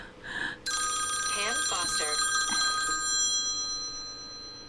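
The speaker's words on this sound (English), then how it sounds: "my phone decides to ring just as soon as I start live streaming" A phone rings with steady electronic tones at close range during a live stream, starting after a brief bit of talk. Voices are heard over the ringing.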